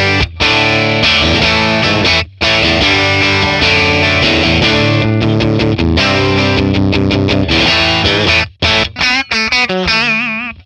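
Distorted electric guitar on its bridge pickup plays loud and steady through a 1964 Selmer Treble n Bass 50 amp, with brief gaps between phrases and a final held chord that wavers as it fades.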